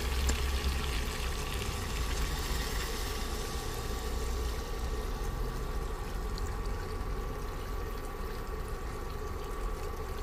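Water is poured into a pot of chicken and vegetable stew. A steady, even pour with a faint hum beneath it runs for about ten seconds, alone and without speech.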